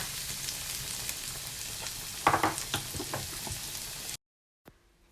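Chopped garlic cloves drop into melted butter in a hot pan and sizzle steadily up close, with a brief burst of louder crackling and stirring midway before the sound cuts off abruptly.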